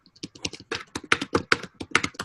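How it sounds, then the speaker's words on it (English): Computer keyboard typing picked up over an open microphone during an online general Q&A meeting, a steady run of close, crisp key clicks with irregular rhythm and no talking. "I hear every type you do"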